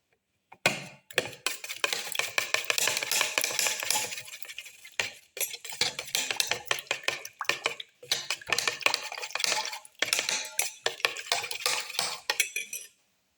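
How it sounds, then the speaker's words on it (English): Eggs mixed with crushed tomato pieces for a black pepper cilantro omelette are whisked briskly in a bowl, a fast clattering run broken by a few short pauses, close and fairly loud with no talking. "Mix until it's frothy."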